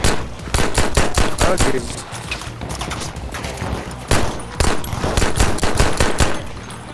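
Rapid automatic gunfire bursts from a Battlefield V match, loud and sustained across the whole stretch with a brief lull midway, while a player briefly speaks over it.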